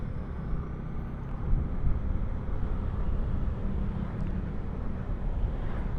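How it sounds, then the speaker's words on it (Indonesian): Strong wind buffets the microphone near Muara Gembong while riding a Honda Clip, a steady low rumbling roar that persists throughout without any voices. "anginnya kencang banget tuh"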